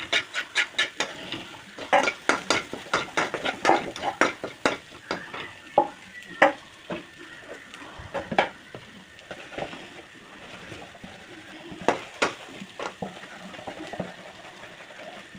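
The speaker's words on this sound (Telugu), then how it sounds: "ఇలా బాగా కలుపుకోవాలి ఫ్రెండ్స్" Egg curry being stirred in a pan on a gas stove, a spoon scraping and clinking against the metal in irregular bursts over a soft continuous sizzle of frying.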